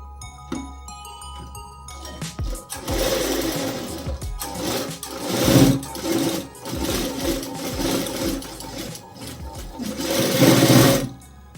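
A sewing machine stitches a blouse in continuous motorised bursts, loud and close, with brief pauses between runs and faint handling noises at the start.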